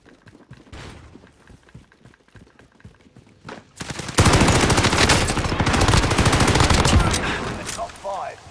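Heavy automatic gunfire in a battle royale video game match, starting as sparse distant shots and then erupting into a loud, sustained burst of rapid fire that runs for several seconds before easing off.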